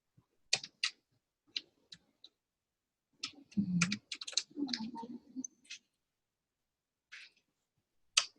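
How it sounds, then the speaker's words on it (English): Keystrokes on a computer keyboard come in short, sparse clusters of clicks with pauses between them, close and fairly quiet, with no talking. "I'm not typing something in correctly."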